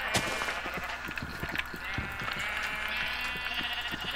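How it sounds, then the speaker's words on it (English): Minecraft sheep bleat repeatedly amid clicky, synthetic game effects and thuds, moderately loud and continuous over a steady hum. "Oh, look, more sheep."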